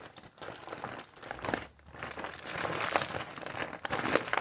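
Aluminium foil is folded over the edge of a potato chip bag, giving a close, continuous crinkling and crackling of foil and plastic with brief pauses, loud and alone without speech.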